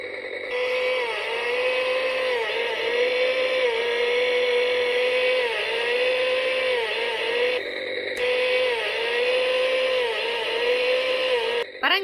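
A STIHL chainsaw's engine revs as the throttle trigger is squeezed, holding a loud, steady buzzing drone up close with periodic slight dips in pitch, a brief break near the end, and no talk.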